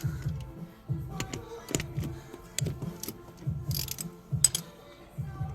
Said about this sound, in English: Remove the two 10mm nuts that are holding the sound deadening piece down.